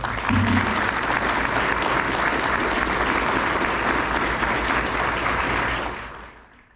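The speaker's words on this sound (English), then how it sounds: "Please join me in giving the award recipients a final round of applause" A large audience at a Border Patrol graduation ceremony gives award recipients a final round of applause, a dense, loud, sustained clapping that holds steady before tapering off in the last second.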